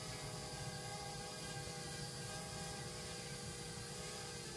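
Small drone hovers nearby, flying over a field where wild boar are being herded, a steady high-pitched buzzing whine with layered rotor tones, constant and loud with no breaks.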